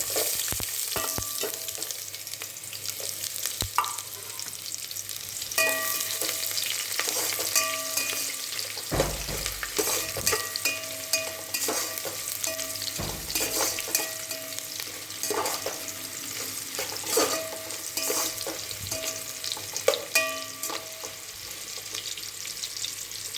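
Onions with whole spices like cinnamon, bay leaf and shahi jeera frying in hot oil for bagara rice, a continuous close sizzle with occasional stirring clinks of a spoon against the pan and no talking.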